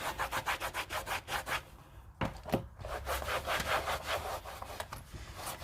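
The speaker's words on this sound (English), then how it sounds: "I'm going to go ahead and wipe down the canvas, take away excess dampness." A cloth or baby wipe rubs over damp Louis Vuitton coated canvas on a Toiletry 26 pouch. Quick, close back-and-forth scrubbing strokes run almost without a break, with a brief pause partway through and no talk.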